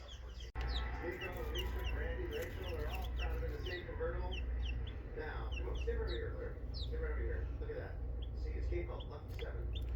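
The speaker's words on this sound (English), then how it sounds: "And then we got chickens." Backyard chickens cluck and chatter close by in a steady, busy stream of short calls, with a faint low background rumble throughout.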